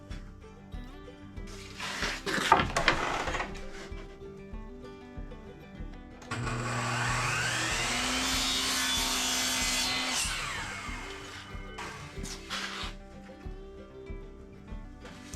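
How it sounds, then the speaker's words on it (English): Wood is cut to fit a new computer table top, with a short burst of rough sawing and rubbing early on, then a sustained power-tool whir for several seconds before it stops, close by with no talk. "So I need to do a little bit of cutting"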